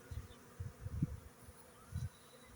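Honeybees buzz around their hives in cool spring weather, a steady low hum that swells in several short pulses, with no voices over it.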